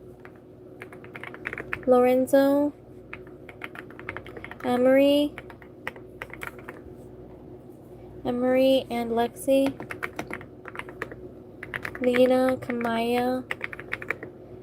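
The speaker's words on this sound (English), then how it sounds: "I'm typing names live" Bursts of quick typing on a computer keyboard, clicking clusters alternating with a person speaking over them, close and fairly quiet.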